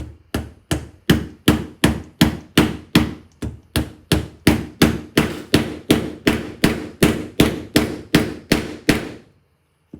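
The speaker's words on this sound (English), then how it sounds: "And then hold on to it and then hammer him down." A steady series of sharp hammer blows, about two per second, close and crisp, continuing for nearly ten seconds before stopping.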